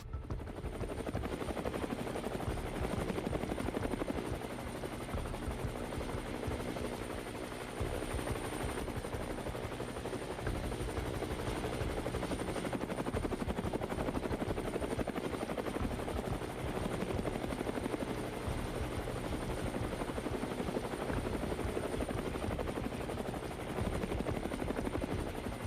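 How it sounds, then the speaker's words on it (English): A police helicopter drones steadily over downtown Los Angeles while tracking a car chase, its rotor thrum constant and fairly loud throughout the long stretch, with no voices. "From above, a helicopter tracked the vehicle"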